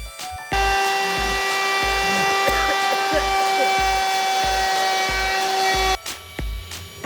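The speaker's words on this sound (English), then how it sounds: "But first we're going to cut out the profile, which MDF makes a lot of dust." A power tool cuts out an MDF profile with a loud, steady, sustained whine and a constant tonal hum, with a soft rhythmic thumping underneath, then stops abruptly near the end.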